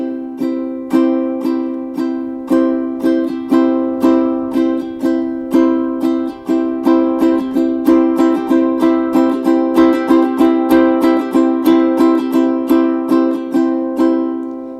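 Single-finger triplet strumming on a stringed instrument, the middle stroke of each group of three split into two shorter notes, giving a steady, even rolling rhythm of bright chords played alone and up close.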